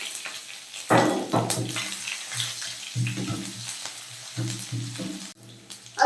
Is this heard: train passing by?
no